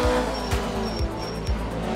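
A rally car in the Art of Rally video game, engine droning steadily while tires scrub and skid in repeated rhythmic surges, loud and close throughout.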